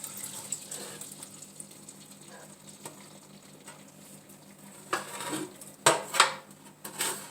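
Roasted vegetables and browned fond being scraped loose in a pan with water, a steady low hum under scattered scrapes and clinks of metal, growing into a few louder, sharper scrapes near the end, with no talking.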